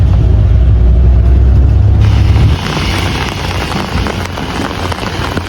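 Rain falls steadily outdoors in Japan as a dense, continuous hiss, with a low engine-like rumble beneath it for the first couple of seconds that then fades.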